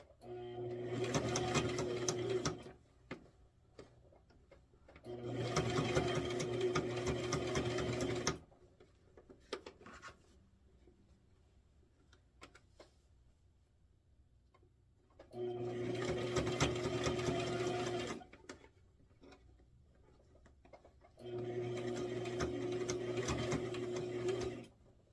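A sewing machine stitches a Day of the Dead themed kitchen apron in four sustained runs of a few seconds each, close and steady, with quiet pauses between bursts while the fabric is checked and pivoted.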